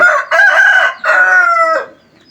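A Thai fighting rooster at a backyard coop crows twice in a row, each crow loud, close and drawn out, with a short break between them and no voices.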